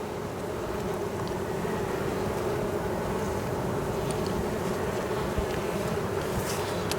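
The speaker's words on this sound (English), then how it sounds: "I already had bees swarm" A honeybee swarm buzzes around a Layens hive, a dense, continuous low drone that stays at an even level throughout, with no voices.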